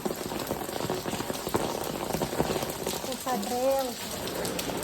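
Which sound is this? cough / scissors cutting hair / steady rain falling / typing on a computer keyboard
steady rain falling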